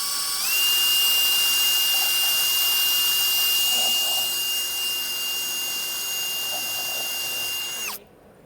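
A high-speed power mixing tool whirs steadily through Jesmonite at close range, its tone holding constant for several seconds before cutting off abruptly near the end.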